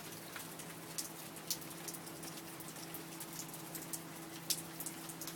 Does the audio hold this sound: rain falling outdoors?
yes